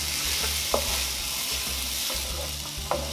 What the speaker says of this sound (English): I'll be adding the onions and garlic and sauteing it.